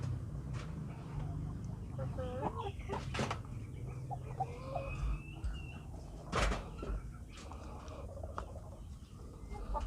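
Pet chickens clucking softly while eating wet feed, scattered faint clucks and pecking knocks over a low steady background hum.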